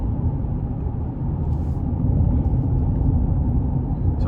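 A 2021 GMC Canyon Elevation with a 3.6 engine and 2WD cruises on a back road at about 46 mph, making a steady low rumble of engine and road noise from inside the cab.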